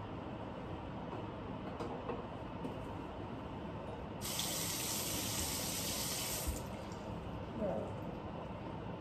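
Water runs from a bathroom sink tap during face washing, a steady hiss and splash close by that grows brighter and stronger for a few seconds midway before easing back to a softer flow.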